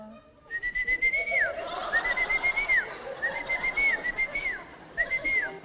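A person whistles an imitation of an evening nightingale's song: several sustained, warbling phrases with short gaps between them, clear and close over a faint background.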